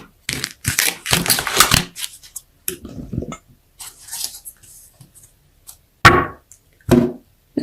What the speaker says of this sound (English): Let's shuffle my Rider-Waite deck and see what comes out there.